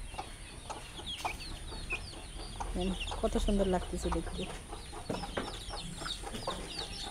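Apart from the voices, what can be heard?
chickens clucking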